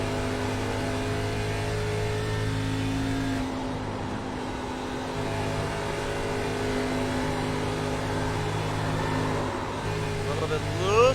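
Race cars circling the Indianapolis oval in the iRacing game, engines droning steadily throughout, with a brief squeal of skidding tires late on, under a commentator's talk.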